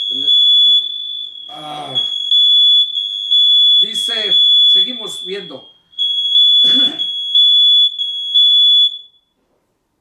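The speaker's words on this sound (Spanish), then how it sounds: "la alarma del humo" A smoke alarm in a Bible study session emits a steady, piercing high tone that holds for about nine seconds beneath someone speaking, then cuts out.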